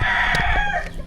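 Chickens on a farm in the Agusan Marsh, with a rooster crowing; the crowing and clucking stay loud and continuous through the short moment, close by and without talk.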